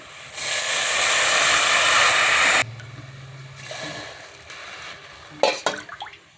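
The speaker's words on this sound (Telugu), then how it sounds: "ఇప్పుడు నీళ్ళు పోసేద్దాం" Water is poured from a glass into a hot pan for upma, a loud rushing hiss for about two seconds, then a quieter simmer with a few clinks of utensils.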